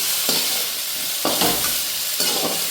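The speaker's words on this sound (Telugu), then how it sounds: "దీనిలోనే పచ్చిమిరపకాయలు, టమోటాలు ఒక 2 టమోటాలు వేస్తాను." Green chillies and tomatoes fry in a hot pan, giving a loud, close sizzle that surges in three bursts as they are stirred, with no voices.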